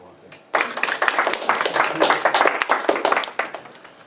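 A seminar audience bursts into clapping after a short pause, a dense, steady applause of many hands at moderate distance that holds for several seconds.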